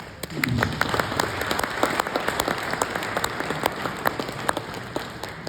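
An audience at a presidential event in the Federated States of Micronesia applauds, a dense, steady wash of many hands clapping that continues for several seconds with a few sharper claps standing out.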